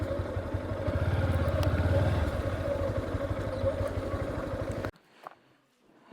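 A motorcycle engine putters and idles with a steady rhythmic beat near a village temple, running for several seconds before cutting off abruptly, leaving near silence.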